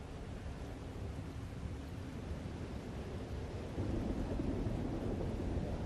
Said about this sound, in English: The storm is coming back.